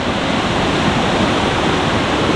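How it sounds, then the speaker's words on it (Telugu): A large waterfall near the Araku Ghat road roars in a dense, steady rush of falling water, loud and close, with no pause or other sound across the whole stretch. "ఒక పెద్ద వాటర్ ఫాల్"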